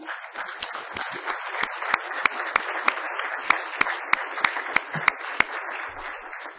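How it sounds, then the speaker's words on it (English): An audience applauds at the close of a session on speech recognition for atypical speech, with moderate clapping and a few louder individual claps standing out over several seconds. "So maybe one last round of applause for Heidi"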